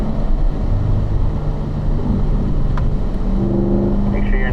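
A race car drives around a track in fourth gear, its engine a steady, loud droning hum under heavy wind rush, with the pitch holding fairly even and then shifting slightly near the end.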